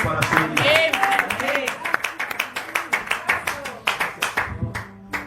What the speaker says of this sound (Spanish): Den un aplauso al Rey de Reyes en esta mañana